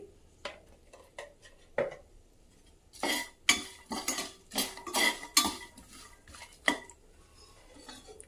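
A spoon clinks and scrapes against a bowl while mixing ground coriander and chilli powder, starting with a few light taps, then a busier run of metallic clatter near the mic with no talk.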